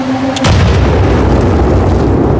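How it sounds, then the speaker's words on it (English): A frag grenade blasts in the Titanfall 2 video game, a single loud close boom that erupts suddenly and rumbles on heavily to the end with no talk. "Incoming frag! Watch yourself!"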